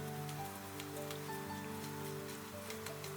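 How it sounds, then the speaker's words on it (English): Quiet, even rain patters steadily on a surface, a soft hiss under a sustained tonal musical backdrop. "The weather is rainy."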